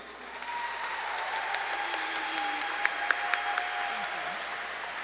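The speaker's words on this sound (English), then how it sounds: "So, ladies and gentlemen, round of applause for Denise Daughtery." Audience at a cancer benefit concert evening breaks into sustained applause, a broad steady wash of many hands clapping with a few sharper individual claps standing out near the end.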